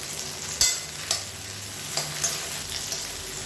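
Onion and about ten dried red chillies sauté in a pan, a soft continuous sizzle near the mic with a few sharp spoon clicks and scrapes against the pan, no voices.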